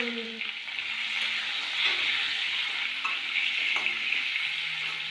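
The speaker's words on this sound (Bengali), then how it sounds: "মাছের তেল রয়েছে, ওখানে আলুগুলো ভেজে নেব" Potatoes frying and being stirred in leftover fish oil, a steady bright sizzle broken by scraping stirs and clinks of a utensil against the pan, close and fairly loud, no voices.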